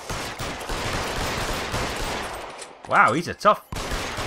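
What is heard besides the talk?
gunshots in the L.A. Noire video game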